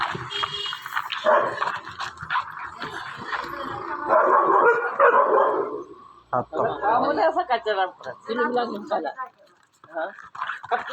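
Dogs yip and bark in short bursts at close range, mixed in with people talking throughout.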